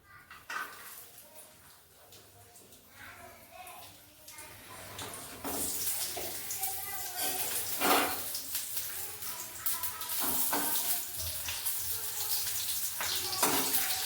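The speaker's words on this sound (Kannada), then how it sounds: "ಫಸ್ಟ್ ನಾನು ಈರುಳ್ಳಿ ಮತ್ತು ಬೆಳ್ಳುಳ್ಳಿ ಆಯಿಲಲ್ಲಿ ಫ್ರೈ ಮಾಡ್ಕೋತೀನಿ" Onion and garlic fry in oil, starting as a quiet hiss that swells into a louder, steady sizzle partway through, with occasional clinks of a utensil against the pan.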